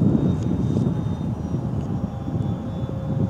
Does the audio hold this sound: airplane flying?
yes